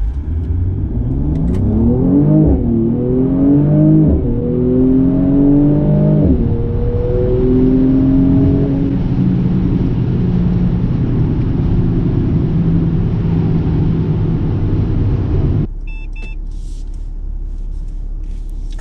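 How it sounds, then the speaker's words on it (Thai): A Mercedes-AMG C43 Coupe in comfort mode accelerates hard from 0 to 100 km/h, its engine revving up through several gear changes with a loud cabin drone before easing off near the end. "เดี๋ยวเราจะลองอัตราเร่ง0ถึง100กิโลเมตรต่อชั่วโมงกันนะครับ"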